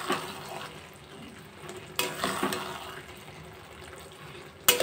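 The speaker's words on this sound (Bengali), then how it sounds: "মাঝে মাঝে ঢাকনাটা খুলে একটু নাড়াচাড়া দিয়ে দিতে হবে।" Dum pulao being stirred in a covered pot after the lid is lifted, soft scraping and gentle sizzling at close range, with a couple of sharper clatters from the lid or spoon.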